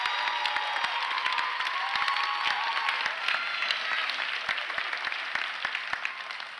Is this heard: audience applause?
yes